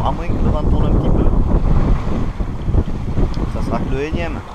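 A sailboat under sail on a coastal cruise near Menton, with steady, loud wind rushing and buffeting the microphone over sea and hull noise, while people talk throughout.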